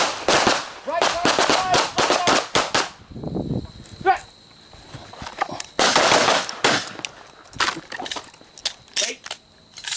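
Pistol shots crack in quick strings at targets during a close-quarters pistol drill, loud and close, with short pauses where an instructor's voice gives commands.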